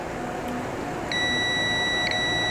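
A multimeter continuity buzzer tests a short on an Acer A514 laptop circuit board. After a quiet start, it sounds one steady, high-pitched tone that holds unbroken for over a second.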